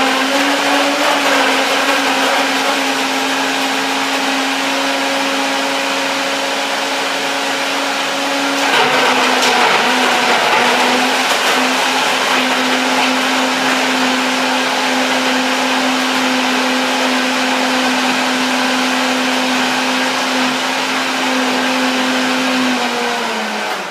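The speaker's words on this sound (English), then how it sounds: "Let's blend it and dance." A countertop blender runs continuously, blending apple, lemon, a date, vanilla and water with a loud, steady motor whine. It shifts slightly in pitch partway through as the load changes, and no voices are heard.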